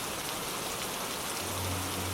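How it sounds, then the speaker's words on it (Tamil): Heavy, unbroken rain pours down in a steady, dense hiss that fills the whole span, loud and close, with no voices. "சோனு பெய்யுது விடாத மழை பல மணி நேரம் பெய்யுது"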